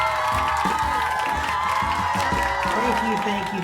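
A crowd cheers and claps to open a show, a dense continuous roar of applause and shouts heard loud and close, with a voice talking over it.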